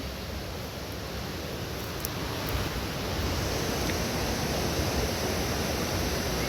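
River water flowing near its bank, a steady broad rushing roar that stays loud and unbroken throughout, with no voices over it.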